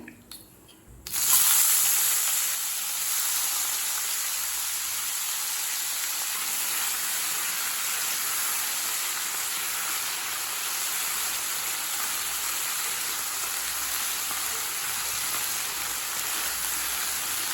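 Potato pieces frying in a pan with asafoetida and curry leaves, a steady broad sizzle and hiss that jumps up loudly after a quiet start and holds evenly throughout.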